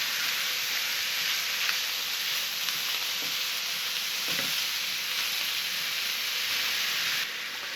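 Meat and onions frying for fried rice, a steady loud sizzle with a few soft stirring scrapes, easing slightly at the very end.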